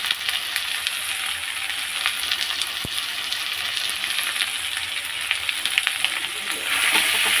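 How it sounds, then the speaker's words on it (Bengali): Turmeric, chilli and cumin powder frying in a pan, a steady close sizzle throughout with a brief sharp click near the middle. "দিয়ে ভালো করে কিছুক্ষণ কষাচ্ছি"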